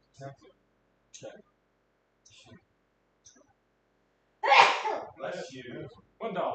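A single sharp sneeze bursts out loud and close during a casual home poker night, followed by people talking over the table; earlier, quiet scattered voices come and go.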